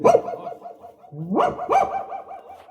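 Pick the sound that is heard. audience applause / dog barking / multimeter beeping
dog barking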